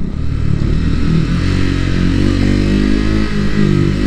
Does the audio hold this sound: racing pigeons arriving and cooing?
no